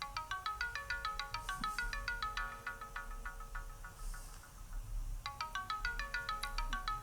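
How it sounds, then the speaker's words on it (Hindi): A phone ringtone plays in repeated bursts of bright electronic tones, pausing briefly before starting again, fairly soft in a quiet room. "इसका फोन है।"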